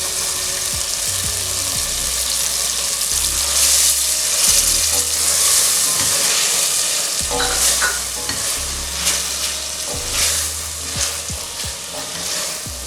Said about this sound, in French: Je rajoute mes oignons découpés.